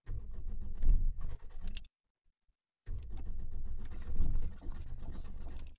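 A gas-converted car engine cranks and briefly sputters without catching, stops for about a second, then cranks again in a loud, steady churning run; the car runs on petrol but fails on gas.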